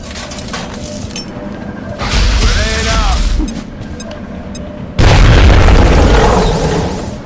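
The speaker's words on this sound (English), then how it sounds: "And put this grenade right on top of them." A grenade detonates in the video game XCOM Enemy Within, a loud booming blast with crackling debris and a glassy clink, followed by a second heavy rumbling burst after an earlier muffled explosion.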